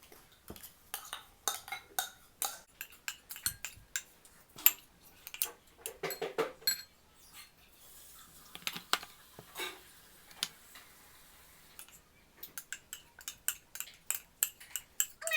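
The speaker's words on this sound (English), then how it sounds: "We mix all the things in the bowl." Sandwich ingredients being mixed in a bowl for a veg mayo sandwich, a run of close, sharp clicks and taps of a utensil against the bowl in uneven bursts with brief quiet pauses.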